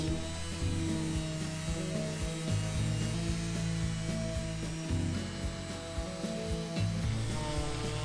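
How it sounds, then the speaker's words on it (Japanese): Sandpaper of 320 grit rubs steadily over a large monkey pod slab in a final hand-finishing pass, a continuous close scratchy hiss over a low droning hum throughout, with no talking. "そして320番のペーパーで最後の仕上げをします。"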